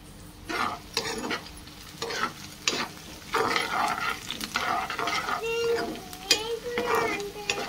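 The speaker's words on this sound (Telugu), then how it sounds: "ఆనియన్స్ మంచిగా ఫ్రై చేసుకోవాలి" Onions fry in a pan with mustard seeds, cumin, green chillies, curry leaves and coriander, a steady sizzle broken by repeated scraping stirs of a spatula against the pan while a person talks intermittently.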